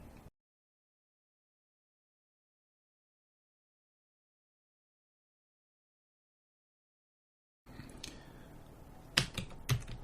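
A chip name is typed on a computer keyboard, a quick burst of crisp key clicks after a long stretch of near silence, close and fairly quiet.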